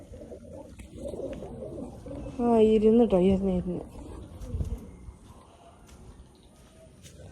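A pigeon coos in a short, wavering burst close by, with a person speaking briefly around it and faint background noise.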